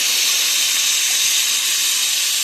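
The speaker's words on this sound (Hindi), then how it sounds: "इसको आपने फ्राई करना है कुकिंग ऑयल में" Beef slices frying in cooking oil over medium-low heat give a steady, loud, continuous hiss and sizzle that holds evenly throughout, with no talking.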